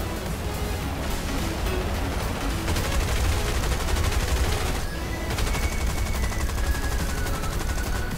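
Rapid bursts of gunfire from War Thunder combat, dense and continuous across the whole stretch, loud and close with overlapping shots and a constant rumbling backdrop.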